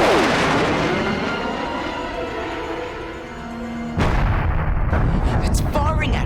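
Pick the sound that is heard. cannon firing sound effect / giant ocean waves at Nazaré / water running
cannon firing sound effect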